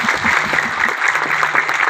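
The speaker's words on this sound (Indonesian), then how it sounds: "Tepuk tangan lagi semuanya." Crowd applause at a village farmers' gathering, a dense steady wash of many hands clapping at once, loud and continuous throughout.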